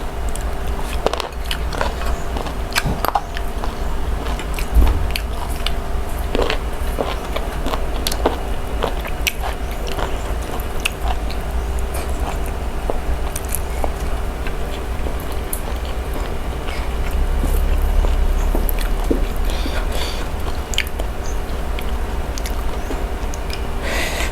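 Close, steady chewing and biting of chewy dark puffball mushrooms eaten with rice and chili paste, with soft squishy crunches repeating over a low background hum and no talk.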